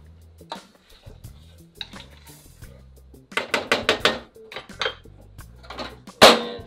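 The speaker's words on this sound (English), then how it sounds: "Throw the meat in there. At that point, kind of stir it around a little bit." Beef stirred around with a utensil in a hot pan: close metallic clanks and scrapes in an uneven cluster, ending with one louder clatter, with faint voice in the background.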